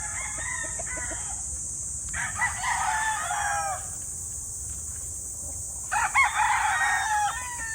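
Gilmore Black roosters crowing, two loud drawn-out crows a few seconds apart with bits of clucking between, over a constant high insect-like hum.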